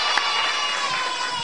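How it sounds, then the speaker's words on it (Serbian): A studio audience at a children's Saint Sava holiday television show applauds, producing a dense, steady wash of clapping and crowd noise that fills the whole moment at a fairly loud level. "Zato jedan aplauz"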